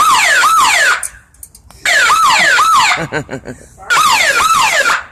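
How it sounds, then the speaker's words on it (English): A loud electronic store alarm wails in rising and falling sweeps, cutting out briefly between bursts, with rapid warbling pulses in the gap. "We have an alarm going off at the time."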